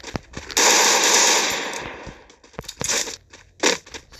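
Rapid submachine gun bursts from the Free Fire battle royale game, a sustained loud rattle followed by shorter choppy volleys and a final sharp burst, with no talking.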